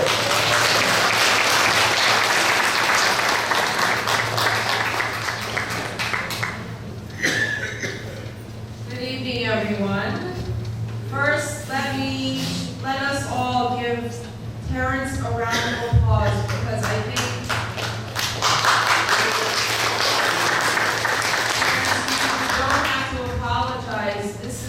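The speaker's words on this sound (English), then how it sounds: "Let's give a big round of applause." Audience applause at an Asian American political fundraising event, loud sustained clapping at the start and again near the end, with a voice speaking over the quieter stretch in between.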